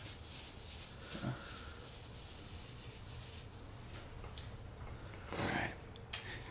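Steady rubbing rasp of wet sanding a car headlight lens by hand, held at an awkward angle without a sanding block, continuous and close with brief louder strokes and no talking.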